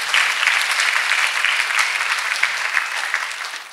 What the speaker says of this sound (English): Can you clap for Master Jesus?